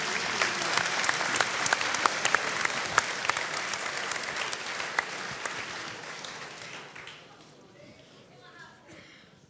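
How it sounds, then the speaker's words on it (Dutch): An audience at a physics lecture bursts into applause, a dense clatter of many hands close and loud at first that gradually thins and fades toward the end. "Hartelijk applaus."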